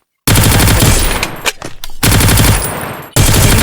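Rapid automatic gunfire from weapons in a mobile shooting game, loud and close, in sustained bursts broken by a short pause and a brief gap before firing resumes.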